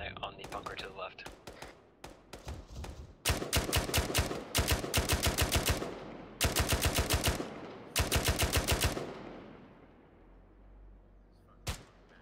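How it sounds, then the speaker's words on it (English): Heavy automatic gunfire pounds a bunker in the video game Arma 3, with long, rapid bursts of loud, close machine-gun fire separated by short pauses, then a lingering echo and one last isolated shot. "Heavy fire on the bunker to the left."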